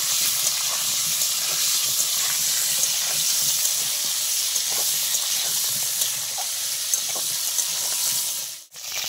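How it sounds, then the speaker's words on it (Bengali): Pointed gourd (potol) sizzles steadily in hot oil in a pan, a dense, even frying hiss that carries on close-up without speech before briefly dropping away near the end. "পটলগুলো আমি আগে ভালো করে ভেজে নেব।"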